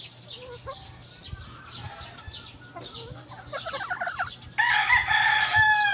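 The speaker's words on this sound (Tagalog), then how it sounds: "Mga matitigas na manok to." Gamecock roosters from a fighting line crow repeatedly at close range, the calls growing louder and overlapping into a sustained loud crow near the end, with light background noise and faint clucking throughout.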